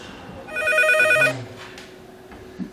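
A telephone rings once in a rapid electronic trill, loud and close, then stops, leaving a quiet room behind.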